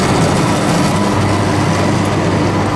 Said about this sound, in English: the train is just right next to me